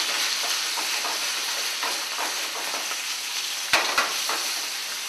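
Baby octopus fries with chopped garlic in hot olive oil, a loud, close, continuous sizzle with steamy hiss, broken near the end by a couple of sharp clicks from the pan.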